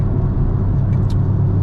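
Chevrolet Camaro SS cruising on a highway, its engine a steady low rumble with road and wind roar, loud and close throughout, no voices.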